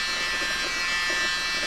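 Battery-powered mini blower used for fluid art, a steady high-pitched buzzing whir running continuously and close, with no talk.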